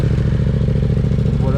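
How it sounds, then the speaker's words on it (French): Yamaha MT-07 motorcycle engine running just after starting, a loud steady pulsing idle close by, alone without talk. "Je vais quand même démarrer la moto, comme ça vous allez aussi entendre le bruit."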